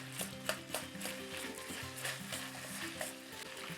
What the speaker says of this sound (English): So to this, I'll add the sliced onion and the green onion. Just gonna give it a little toss.